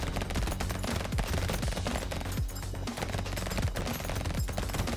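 Rapid, sustained SMG gunfire from the video game Brotato rattles continuously in dense bursts over a steady music bed, loud and close throughout.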